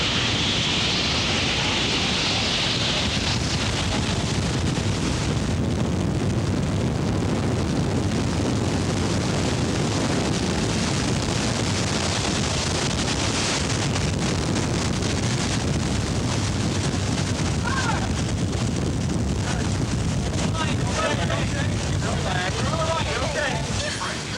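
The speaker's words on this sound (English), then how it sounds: "As the twister spins out its final moments, a dread calm takes its place." Strong tornado wind roars and buffets continuously during a cyclone, a loud, rushing gusty noise filling the whole stretch, with scattered crackling debris-like bursts and voices faintly mixed in.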